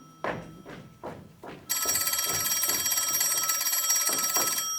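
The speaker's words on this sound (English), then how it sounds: "That pay station telephone machine is ringing for me." A few dull knocks, then a loud, continuous pay phone bell starts ringing and keeps going steadily to the end.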